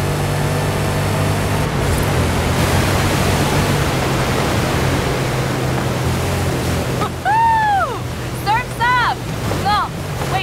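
Rushing water pours down a flume in the Forza Horizon 5 Hot Wheels expansion, a steady loud broadband roar that runs throughout, with sharp whistling chirps breaking in near the end.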